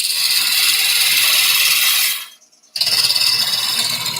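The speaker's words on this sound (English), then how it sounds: "So on here I can use my gouge, come across, cut nicely, take the corner off." A gouge cuts wood on a spinning woodturning lathe with a loud, steady shearing hiss. The cut breaks off briefly for about half a second, then resumes at full strength.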